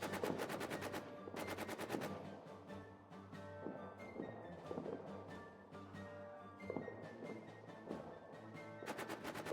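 Machine-gun bursts in a WWI trench video game: rapid rattling volleys at the start, near the two-second mark and at the end, over a dense low backdrop of distant battle noise.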